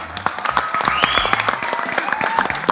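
A live audience claps steadily throughout at a stage event honouring a woman host, with dense overlapping hand claps and a faint tonal ring drifting above them.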